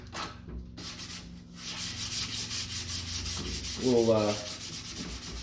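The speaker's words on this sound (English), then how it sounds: "So what I'm going to do now is just go through and sand all this up." Steady rhythmic sanding strokes rub across an old wooden secretary hutch, close and continuous, with a brief spoken word near the end.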